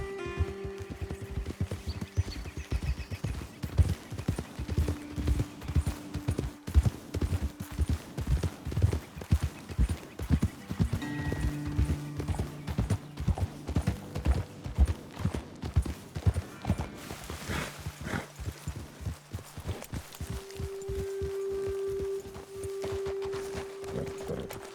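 Horses' hooves clip-clop at an easy walking pace for a long stretch in Red Dead Redemption 2, with occasional snorts and a steady low tone beneath, no talking.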